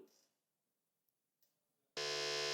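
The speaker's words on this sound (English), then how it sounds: "we've got one team going on the buzzer" A loud, sustained electronic quiz show buzzer blares suddenly after a quiet stretch with a couple of faint clicks, holding steady to the end.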